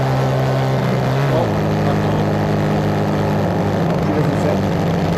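A shifter kart's small engine, fitted with a nitrous kit, revs hard and loud, its pitch climbing and dropping as the throttle opens and eases, droning steadily throughout.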